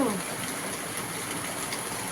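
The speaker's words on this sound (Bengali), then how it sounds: "খুব বৃষ্টি হচ্ছে।" Heavy rain pours steadily outside a home, a dense, constant wash of hiss with no breaks, close and fairly loud, with a brief voice at the very start.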